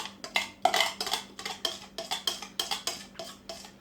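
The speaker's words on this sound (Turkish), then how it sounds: "Şimdi soğanı ilave ediyorum arkadaşlar patatesine" Finely chopped onion is stirred into a potato filling for gözleme, with a spoon clinking and scraping against a bowl in quick, regular taps and knocks, close and crisp with a faint steady hum beneath.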